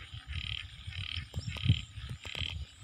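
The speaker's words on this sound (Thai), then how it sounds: "โอ้เสียง อึ่งร้องมากครับฝั่งนู้น" Many frogs croaking at night after rain, heard from across a rural pond area. The calls come in steady pulsing bursts from a dense chorus. Low rumbling and a few sharp clicks sit close to the listener, with no talking.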